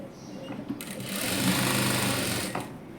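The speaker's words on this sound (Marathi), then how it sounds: "हे सगळं शिवून घ्यायचं इलास्टिक खेचलं तरी चालेल शिलाई मारताना काही प्रॉब्लेम नाही" Sewing machine stitching elastic onto palazzo pants, a steady continuous motor whir running throughout, swelling louder in the middle as the stitching speeds up, close by.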